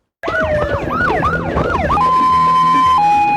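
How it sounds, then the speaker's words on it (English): A funeral escort security vehicle's siren wails in rapid rising-falling sweeps, then settles into a steady high tone, loud and close with road rumble underneath. "Wailing sirens and red flashing lights."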